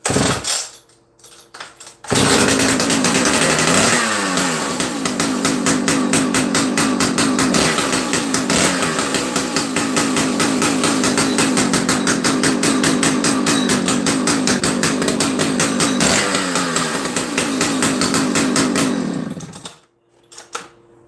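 A high-compression chainsaw, a roughly 20-pound power head with a 28-inch full-wrap bar, fires up after a flooded start, then runs at a loud, steady, buzzing idle for about seventeen seconds before cutting out abruptly.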